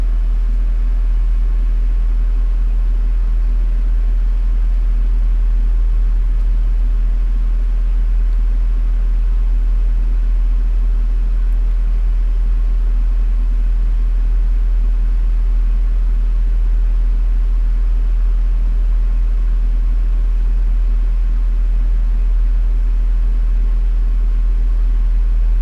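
Stock cars roll down pit road under caution in NASCAR Racing 2003, a continuous low engine drone and rumble that holds steady throughout, with no voices.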